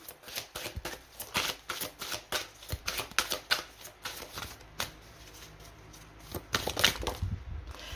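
Tarot cards are shuffled by hand close up, a series of quick riffling bursts and soft flicks in uneven rhythm, with brief pauses between shuffles.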